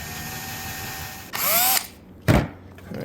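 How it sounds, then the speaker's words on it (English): A power drill with a 1/8 inch bit bores out a stainless steel rivet on a Dometic Weatherpro awning motor, two short loud whirring bursts with a rising whine, separated by a brief pause, close up and alone. "So we'll just use an 1/8 inch drill bit to drill this out"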